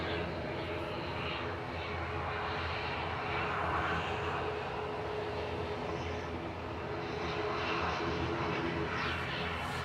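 A Singapore Airlines Airbus A350-900 inbound from Houston lands at Manchester Airport, its engines a steady, sustained roar that swells slightly midway, with faint speech in the background.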